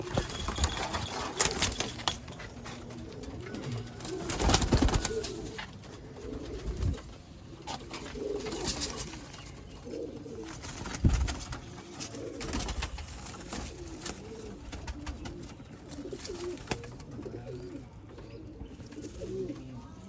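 Sialkoti pigeons coo in soft, repeated rolling calls within a loft or market setting, with scattered rustling and clatter around them and no talk.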